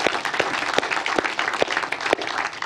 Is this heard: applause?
yes